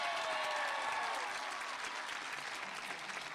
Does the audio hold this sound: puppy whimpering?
no